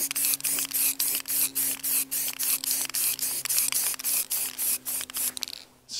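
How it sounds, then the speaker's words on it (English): Aerosol spray paint can held upright and sprayed in quick, repeated bursts while laying on wetter coats of primer and base colour, loud, close hissing pulses with brief gaps and no talk. "So keeping the can upright."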